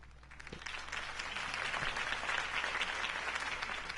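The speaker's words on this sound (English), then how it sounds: "If only Mr. Wayne, my campaign's largest backer, could have heard that applause" Crowd applause in a video game following a campaign speech, sustained dense clapping that swells and holds loud and steady throughout.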